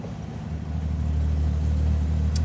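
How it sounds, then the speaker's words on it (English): An Aston Martin DB2/4 Mark III on a test drive, its engine and exhaust giving a steady low rumble that swells slightly and holds, heard from inside the moving car with no talking. "So we're taking the Aston Martin for a test drive"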